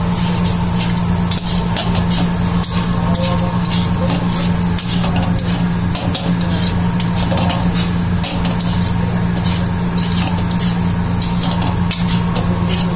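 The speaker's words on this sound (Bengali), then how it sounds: "এবার 16 হিটে একটু নাড়িয়ে নেওয়া হবে।" Chicken pulao topped with ghee is stirred in a pot over high heat, a steady close sizzle and frying crackle running throughout with scraping stirs, loud and without speech.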